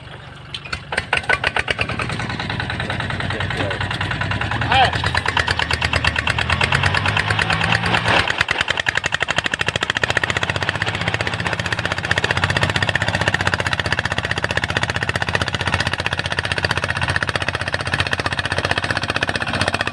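Small engines fitted to cassava carts in Khanu district, Kamphaeng Phet, chug with a fast rhythmic knock. The running is loud and continuous and close by for the whole stretch, with a brief rise partway through.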